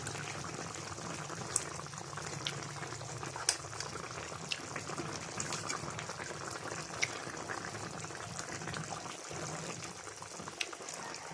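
A pot of chicken biryani simmers quietly, a soft continuous bubbling hiss with occasional small pops, low and steady throughout with no talking.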